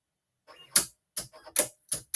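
A Silhouette cutting machine working on a card, giving short sharp mechanical bursts with brief pauses between them, close and clear, with no voices.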